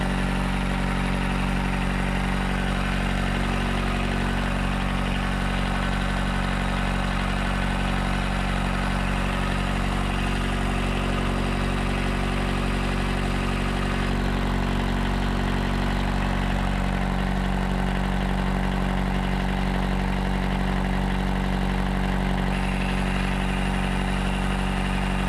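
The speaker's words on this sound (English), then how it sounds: "the engine runs incredibly well" A 4-cylinder Pathfinder 42 diesel idles steadily aboard a 1981 S2 Yachts 36 Center Cockpit sailboat, an even, unbroken low rumble with a constant mechanical hum, close and continuous with no talking.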